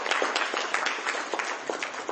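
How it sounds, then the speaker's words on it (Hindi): Audience clapping at a Vedic Sandhya class, dense continuous applause with crisp individual claps throughout, fairly close and loud, with no talk over it. "इनके लिए ताली बजाओ"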